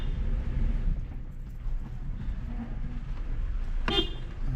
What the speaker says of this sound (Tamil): ஹாரன் நல்லா அடிக்கணும்